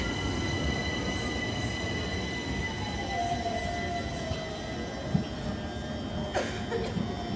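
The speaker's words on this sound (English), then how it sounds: "There's my train to go back." A Class 378 train runs at Ilford, a steady rumble with faint squealing wheels and a brief clunk, moderately close with no talk.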